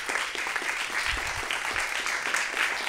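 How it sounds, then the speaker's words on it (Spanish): Steady, dense audience applause at a Spanish-language water week awards session, many hands clapping evenly throughout with no break. "Un súper aplauso"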